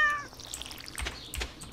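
A cat in Stardew Valley gives a short, clear meow, followed by softer game sounds and faint rustles at a close, moderate level.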